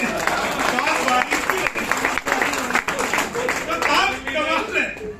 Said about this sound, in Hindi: ताली देखो जोर से आनी चाहिए थी।